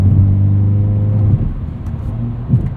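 The interior of a 2021 Hyundai Veloster N with a dual-clutch transmission in manual mode. The engine holds a steady low drone, then its pitch drops at a shift near the midpoint and rises again as it climbs through the gears. No one speaks.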